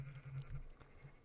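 A Minecraft sheep gives a short, soft bleat while wool is gathered in a game world, faint and close with no talk over it.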